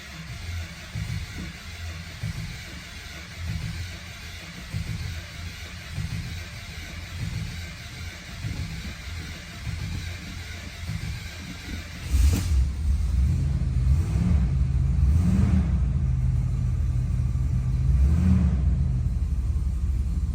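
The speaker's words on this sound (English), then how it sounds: "fire up this Imperial with the Highland Park Hummingbird starter" A 1972 Chrysler Imperial with a Highland Park Hummingbird starter cranks with a steady, low, pulsing whir for about twelve seconds. Then the engine catches and settles into a louder, rumbling idle with a few revs.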